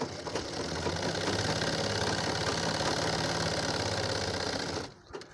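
Sewing machine stitching the handle of a handmade travel bag, a loud steady mechanical whirring with rapid rhythmic needle clatter running continuously before stopping abruptly near the end.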